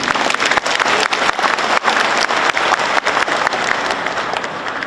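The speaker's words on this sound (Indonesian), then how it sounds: "Untuk itu patut kita menyampaikan tepuk tangan kepada panitia." Sustained applause from an audience at a graduation ceremony, honoring the organizing committee; dense, steady clapping fills the whole stretch with a few louder individual claps standing out.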